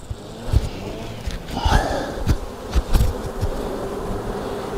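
Honeybees swarming at a hive during a colony merge give off a steady, dense buzz close by, with a few individual bees droning past and no talk.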